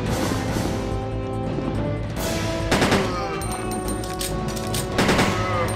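Gunfire in the Resident Evil 2 video game, with a dense game soundscape and a few sharp shot bursts standing out at intervals over continuous background noise.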